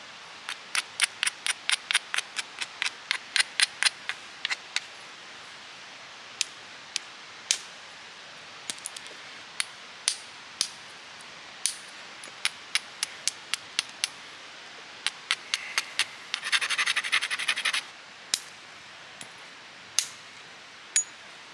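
Flintknapping a stone flake into a pointed edge with a hammerstone, a rapid run of sharp ticking strikes at first, then sparser single clicks, with a brief scratchy grinding burst near the end.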